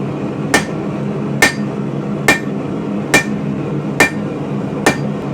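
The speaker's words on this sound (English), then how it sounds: "So this is my 4-pound hammer." A 4-pound hammer strikes railroad steel being forged into a sword blade. Six loud, sharp ringing blows land at a steady, unhurried rhythm, about one per second, over a constant low background hum.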